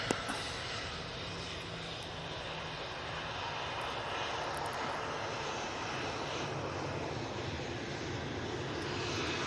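Loganair propeller plane engine droning loudly and steadily at Manchester Airport, a broad continuous roar holding for several seconds with no talk over it.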